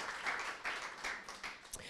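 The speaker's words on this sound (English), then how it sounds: "let's give them a round of applause" Crowd applause at a startup accelerator's final presentation event, a short burst of steady clapping from an audience in a hall, mid-level and slightly distant, with some cheering mixed in.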